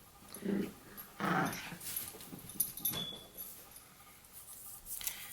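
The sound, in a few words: dog whimpering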